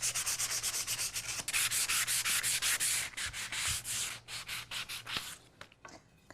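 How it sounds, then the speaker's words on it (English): Cut wood edges being hand sanded for a large wall letterboard, a close, steady scratchy rubbing in long repeated strokes that briefly break off and thin out near the end. "Make sure whenever you're sanding, you're getting these edges really good"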